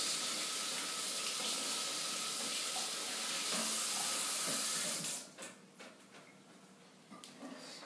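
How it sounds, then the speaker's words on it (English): A food processor part is rinsed under a running kitchen tap, with a steady, close hiss of water for about five seconds before the flow cuts off and scattered small clinks and drips follow. "Wash it off real quick here,"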